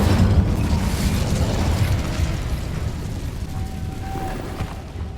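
An Incendio fire spell cast in Hogwarts Legacy bursts out with a fiery, roaring whoosh that is loudest at the start and fades gradually, with a faint thin tone near the end.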